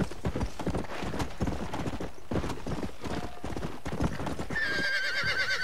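A horse in Red Dead Redemption gallops with quick, rhythmic clip-clop hoofbeats, then pauses for a jump and lets out a high whinny near the end, all close and fairly loud.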